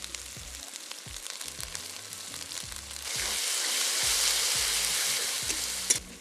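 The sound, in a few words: garlic paste added to sizzling pan for Kadaknath chicken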